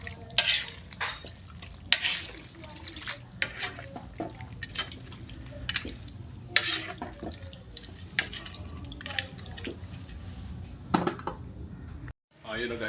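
A spoon repeatedly scrapes and stirs caldereta with carrots and potatoes in a pot, giving irregular close clinks and wet sloshes over a steady low kitchen hum, with a short silent gap near the end.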